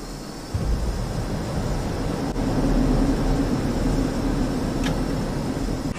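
A JF-17 jet engine spools up in the DCS World flight simulator, a steady loud broadband roar that builds after a brief quiet start and holds for several seconds with no talk.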